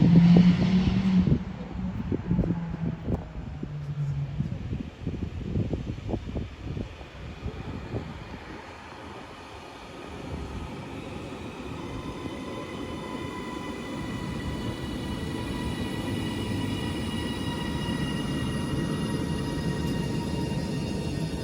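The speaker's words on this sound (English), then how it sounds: "Train now departing is a double 331 going to Liverpool Lime Street." A double Class 331 electric train pulls out of St Helens Junction station bound for Liverpool Lime Street. A loud rumble and clatter at the start gives way to a rising electric whine as it moves off.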